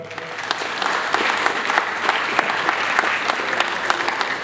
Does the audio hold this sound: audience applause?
yes